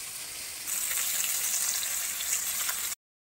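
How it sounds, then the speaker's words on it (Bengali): Onion, garlic and cumin fry in a pan, making a steady, close sizzle that swells after a quieter start and then cuts off abruptly. "মশলা করার জন্য একটু পেঁয়াজ আর একটুখানি রসুন আর সাথে অল্প একটু জিরা মানে বেটে দেবো, সেজন্য এটাকে একটু ভাজা ভাজাও করে নেব।"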